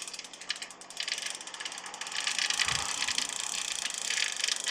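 A KastKing line spooler winds fishing line onto a reel with a steady, close mechanical ratcheting whir that grows slightly louder midway, and no one speaks over it.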